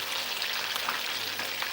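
Fish searing in a hot pan for a Creole stew, a steady, close, dense sizzle that holds evenly from start to finish with no voices over it.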